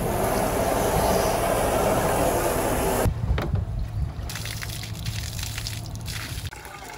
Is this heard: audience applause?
no